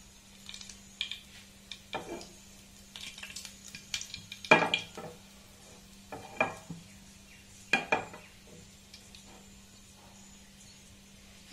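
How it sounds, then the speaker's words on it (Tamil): Whole spices, including cloves and a broken piece of cinnamon, tempered in hot oil for an egg gravy: soft sizzling with scattered sharp clinks and scrapes of a spoon against the pan, close and without voices. "இப்போ இந்த தாளிப்பு எல்லாமே சேர்த்துடலாம்."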